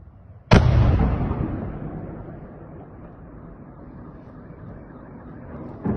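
A single loud, sudden blast from a missile striking a nine-storey apartment building in Dnipro, followed by a long rumbling decay that fades into a low roar.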